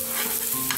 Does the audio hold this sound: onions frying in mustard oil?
yes